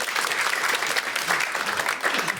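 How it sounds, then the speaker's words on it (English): Comedy club crowd claps for an audience member, a dense, even burst of applause close by that holds steady for a couple of seconds. "Yeah, round of applause for him."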